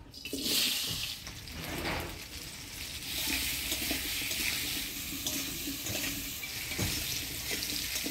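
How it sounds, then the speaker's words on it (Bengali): Taro fries with turmeric and salt in a village kitchen pan, making a sizzling, bubbling sound broken by stirring scrapes and clatter, moderately loud and continuous, with no one speaking. "এবার কোল কচুটা হলুদ লবণ দিয়ে ভাজে নিব।"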